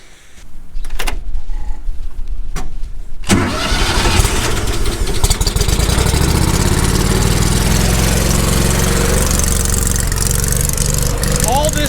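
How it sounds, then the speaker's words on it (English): A generator mounted on a work truck cranks and starts after a few quiet seconds of faint knocks, then settles into a loud, steady running drone that continues to the end. "our work truck is here and it has a generator on it"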